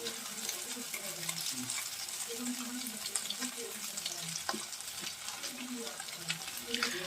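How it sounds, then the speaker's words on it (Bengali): Lote fish (Bombay duck) fries in oil in a pan, with a dense continuous crackling sizzle and occasional stirring scrapes close by, while a faint voice murmurs underneath. "আমি লোটে মাছটা ভেজে নিচ্ছি"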